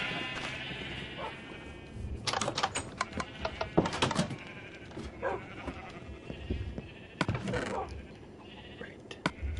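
Several sheep bleat in Minecraft, a cluster of overlapping blocky calls bursting out in irregular groups, near and fairly loud against a light ambient background.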